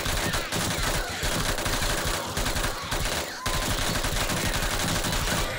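Gunfire in the survival video game 7 Days to Die during a zombie horde night, a loud, continuous stream of rapid shots with brief gaps between bursts.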